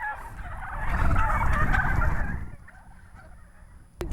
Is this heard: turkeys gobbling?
yes